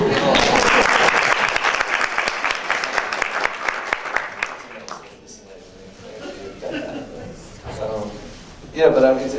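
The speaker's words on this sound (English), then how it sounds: "it sounds like I heard some applause." A burst of enthusiastic clapping from a lecture audience for several seconds, fading out as a person starts speaking over the thinning applause.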